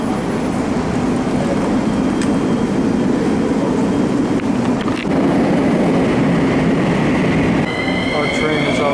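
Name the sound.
metro train arriving and departing in Bucharest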